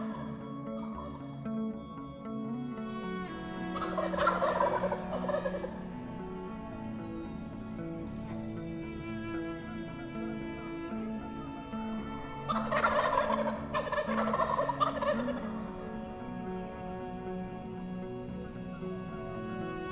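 Wild turkeys gobbling in spring big woods on public land, two loud rattling gobbles spaced several seconds apart over a steady hum of background noise, with no talk.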